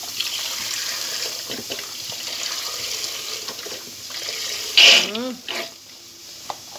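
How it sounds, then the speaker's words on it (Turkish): A litre of milk poured into a pot holding flour and sugar for a caramel dessert: a steady splashing, hissing pour at moderate loudness, with a voice talking briefly partway through. "Şimdi bunun üzerine tam tamına 1 litre süt ekleyeceğim."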